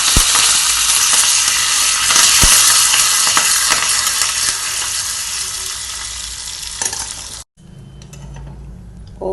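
Curry leaves crackle and spit as they drop into hot tempering oil already holding chana dal, urad dal, mustard seeds and cumin for a potato curry, a loud continuous sizzle with a sharp pop or two, then cutting off abruptly near the end.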